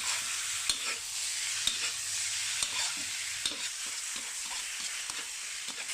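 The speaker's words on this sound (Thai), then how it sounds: "นี่ต้องใส่ลงไปก่อนแล้วก็ ผัดให้เข้ากับน้ำมันนี่หอมๆเลย" Wood ear mushrooms and ginger stir-fried in oil, a steady bright sizzle broken by sharp spatula taps and scrapes against the pan at irregular intervals, close up and without talk.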